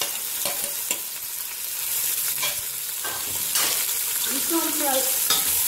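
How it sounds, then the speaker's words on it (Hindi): Chopped onions fry in oil left from cooking bitter gourd, with a steady hiss and repeated scraping stirs close by, and a few brief spoken words over it. "अब इसी ऑयल में हम अपना प्याज शामिल करेंगे।"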